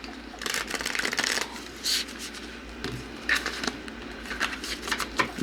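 A tarot card deck is shuffled by hand in several quick, crisp bursts of riffling and flicking, close up, separated by short pauses in a quiet room.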